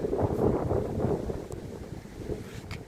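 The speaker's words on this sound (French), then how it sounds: "dimanche matin, un vent du nord épouvantable, pire qu'hier à Auchan" Strong, cold north wind buffeting the microphone beside the flooded river Saône in Rochetaillée-sur-Saône, a loud rumbling roar in gusts that ease slightly toward the end, with no voices.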